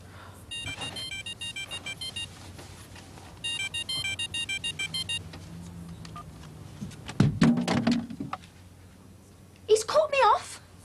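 A telephone rings in repeated double bursts, steady and unanswered, then stops as a few voices speak briefly.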